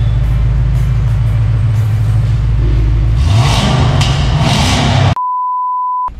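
A turbocharged Chevrolet Opala engine with a full stainless steel exhaust revs from a deep idling rumble up through a rising roar, loud and close, then cuts off abruptly into a steady electronic beep tone.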